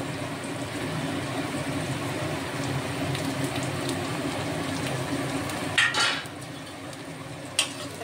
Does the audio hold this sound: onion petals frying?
yes